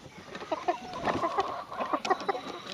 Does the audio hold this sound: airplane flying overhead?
no